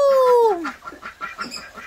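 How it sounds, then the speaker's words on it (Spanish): Ducks on a rural property, with a bright falling call at the start followed by a run of rapid, nasal quacks from several birds close by, with only light background noise. "Mire, ahí están los señores patos,"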